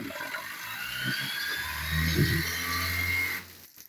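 A pressure washer in rinse mode sprays water across a fishing boat, a steady broadband hiss with mechanical pump rattle underneath, growing louder midway before cutting off abruptly near the end.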